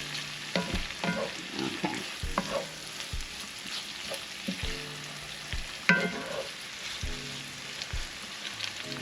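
Vegetables sizzle and fry steadily in a pan for a creamy seafood loaded baked potato, broken by repeated scraping stirs and clacks of a utensil close by; one brief spoken word is heard.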